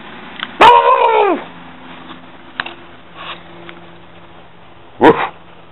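Excitable pet dogs let out two loud, close outbursts, a drawn-out yowling bark followed by a pause and then another sharp bark-whine, with quiet room noise in between.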